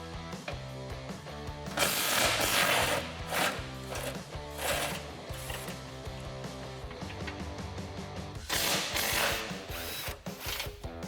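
A ratchet with an 18 mm socket loosens skid plate bolts on a Jeep Gladiator JT, giving repeated quick clicking strokes in short bursts, close and fairly quiet, with no talking.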